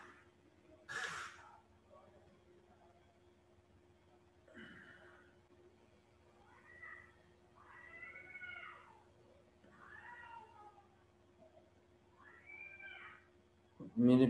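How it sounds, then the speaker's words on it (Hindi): A cat in a back room lets out a string of loud, alarming yowls and meows, several drawn-out cries spread across the stretch with quiet gaps between, plus a sharp burst near the start and end. "मेरे पीछे वाले रूम में बिल्ली इतनी खतरनाक आवाजें निकाल रही है।"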